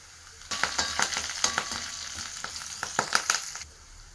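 Curry leaves dropped into a hot pan while cooking puli inji, a sudden burst of close crackling and spitting sizzle with sharp pops that lasts about three seconds and then cuts off.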